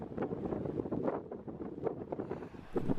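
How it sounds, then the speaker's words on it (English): Strong coastal wind near Filey Brig in North Yorkshire, a loud continuous buffeting roar rumbling against the microphone with no other sounds audible. "it's so windy it's hard to hold the camera"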